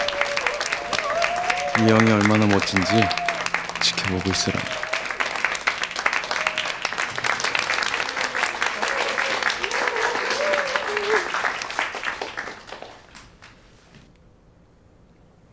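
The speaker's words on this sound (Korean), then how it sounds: "여러분 큰 박수 주세요!" An audience applauding a man who volunteers at an event, sustained dense clapping with a loud voice over it and some cheering, fading out near the end.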